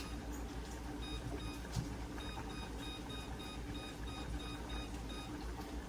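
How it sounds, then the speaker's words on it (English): A kitchen timer beeps faintly in a steady run of short, evenly spaced bursts while a casserole cooks on high stovetop burners. "Let's see, timer."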